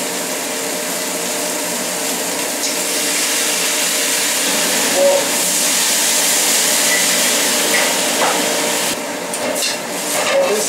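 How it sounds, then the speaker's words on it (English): Soy sauce hits a hot pan of braised spareribs, giving a loud, steady broadband sizzle that holds throughout, with a few faint clinks near the end. "We put some soy sauce. 2 teaspoons."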